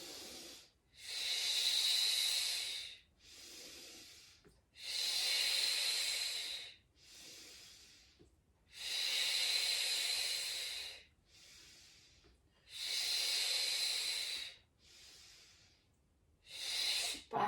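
Slow, steady breathing during a Pilates exercise on a mat: long, airy inhales and exhales alternate in a regular rhythm, close and clear, with brief quiet pauses between breaths.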